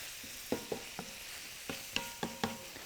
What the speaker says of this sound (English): This is the caramelization. This is what we want right now. It is happening.